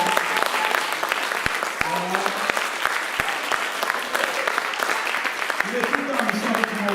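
A church congregation applauding the Lord, with loud, sustained clapping from many hands filling the room and voices calling out over it.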